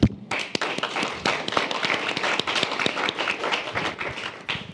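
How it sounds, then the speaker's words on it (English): Modest applause in a student government senate meeting room welcoming new senators, a small group clapping with distinct individual claps and a few thumps, steady for several seconds. "I wanted to give everyone an opportunity to applaud and welcome them in."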